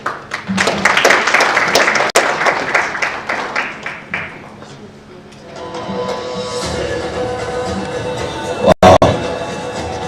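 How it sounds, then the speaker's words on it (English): An audience at a political party services launch event breaks into applause, with dense, loud clapping that fades out midway, followed by a quieter room with some voices. "a big round of applause to Wakili"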